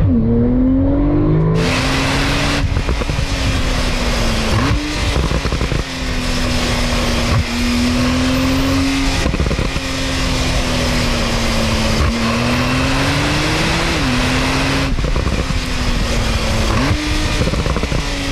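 A Porsche 991.2 Turbo pulls hard from a rolling start onto the Autobahn, its engine note climbing loudly through several gears with brief dips at each shift, and the roar stays continuous from inside the car with no talking.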